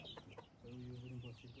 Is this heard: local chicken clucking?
yes